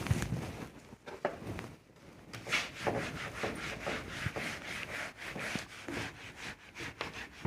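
An eraser rubbing out pencil writing on paper during a maths lesson, a steady scratchy back-and-forth friction in quick repeated strokes, close and continuous with no talk.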